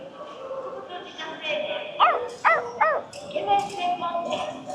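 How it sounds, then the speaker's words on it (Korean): A small dog yaps a few times in quick succession, fairly close, with a busy murmur of people and background sound around it, in a neighbourhood of Kawasaki, Japan. "강아지 진짜 매일같이 들립니다"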